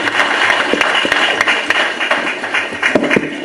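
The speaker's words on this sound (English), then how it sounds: "Please give him a round of applause." Applause from the audience at an awards ceremony honouring a lifetime achievement award recipient, with steady, loud clapping from many hands throughout.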